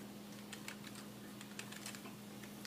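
Computer keyboard typing during a classroom spreadsheet demonstration, a quick run of light clicking keystrokes, faint against a steady background hum, with no talking.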